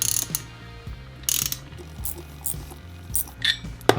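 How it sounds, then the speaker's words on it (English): Ratchet with a 16mm socket screwing a brake pipe fitting home, giving close, loud bursts of rapid pawl clicking in several separate strokes with short pauses between. "you can get your 16mm socket on your ratchet and then just screw it in the rest of the way"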